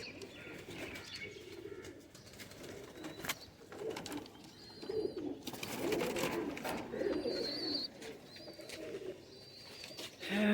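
Zard Khatang pigeons in a breeding setup, giving soft repeated coos and chirps at close range, with occasional wing flutters and rustling against a quiet background.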